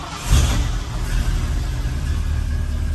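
A 1960 Ford F100 pickup with a 351 V8 revs up right after a rough start, a loud, close, low engine rumble swelling briefly then holding a steady throaty idle.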